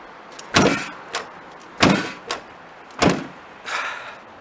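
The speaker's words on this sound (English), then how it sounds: "The door won't shut now, because it's frozen." The frozen door of a 1994 Chevy conversion van is slammed repeatedly without latching, giving four loud thuds at roughly one-second intervals, each followed by a smaller rattling knock.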